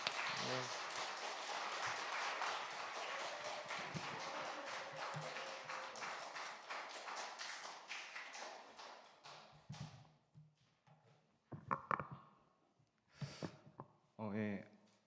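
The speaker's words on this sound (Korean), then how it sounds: "박수 한번 하겠습니다." A church congregation claps during a youth testimony segment of a Sunday worship service, brisk applause for about nine seconds that fades out, followed by scattered sounds and a voice speaking.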